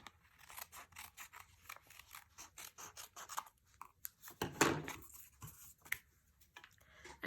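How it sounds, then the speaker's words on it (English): Scissors snip through cardstock to trim the extra bits from a handmade card, a rapid run of close, crisp cuts with short pauses and one louder rasping slice partway through, no voices. "you're going to go ahead and cut off those extra bits"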